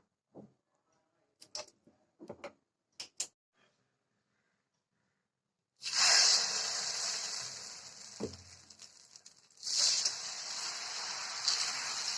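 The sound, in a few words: egg dosa batter sizzling as it is poured on a hot griddle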